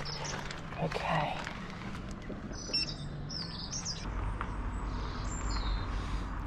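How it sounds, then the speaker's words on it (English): Birds chirp and tweet outdoors on a sunny day, light calls scattered high over steady background noise, with a person talking nearby. "Can you hear the birds?"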